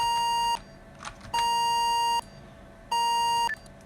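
The keypad of an AE Expanse alarm system sounds three long, loud, steady tones during the entry countdown. Each tone lasts under a second and is separated by short quiet gaps.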